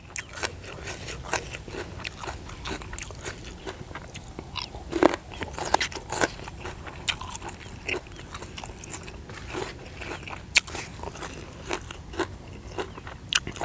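Close, crisp crunching and biting while someone eats spicy pounded sweet snail salad outdoors in a rice field, with steady irregular chews and sharper cracks throughout, no talking.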